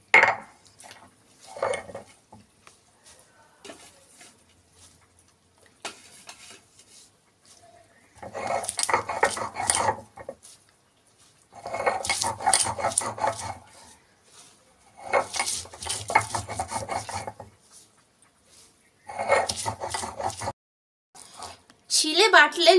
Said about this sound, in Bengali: এবার আমি শিলেই বাটবো থানকুনি পাতাটা।